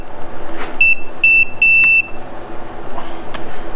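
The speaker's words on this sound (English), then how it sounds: "you hear it beeping" Rapid electronic beeping from an outboard motor's warning buzzer at wide open throttle on a Mercury Thunderbolt 50 HP, in three close bursts, with a steady engine hum behind them.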